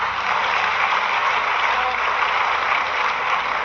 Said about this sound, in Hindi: उनके लिए जोरदार ताली दीजिए